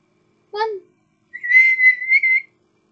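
A voice imitates a referee's whistle, giving one short chirp and then a longer, wavering, sustained whistle. It is close and clear, with silence around it.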